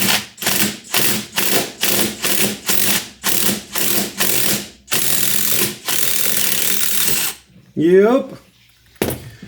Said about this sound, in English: Let's try to use a 17 millimeter socket.